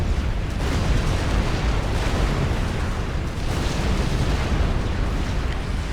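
Battleship cannon fire strikes a target in the strategy game Supreme Commander: Forged Alliance, a dense, continuous rumble of booming explosions and bursts filling the whole stretch at steady loudness, with no voices heard.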